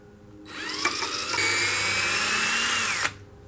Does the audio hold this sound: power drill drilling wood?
yes